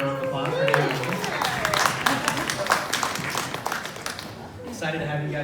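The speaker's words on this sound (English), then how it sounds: "Let's give them a round of applause for doing this." An audience claps for an interior design class from Chattanooga Tech, with brief applause in the middle and a voice speaking over it at the start and end.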